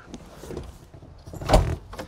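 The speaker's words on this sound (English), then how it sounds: "Here, I'll open the door for you." Soft mechanical clicks and shuffling lead to a louder thunk as the door of a classic Mini unlatches and swings open nearby.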